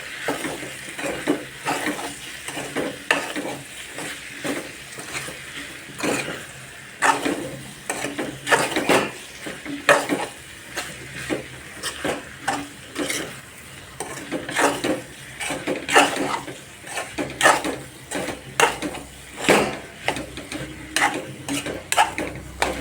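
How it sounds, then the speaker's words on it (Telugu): A ladle stirs potato curry in a pot, giving repeated scraping and clattering strokes in an uneven rhythm with a light sizzle beneath, close and fairly loud, no speech. "బంగాళదుంప పీసెస్ పట్టేలాగా నేనైతే కలుపుకుంటున్నాను"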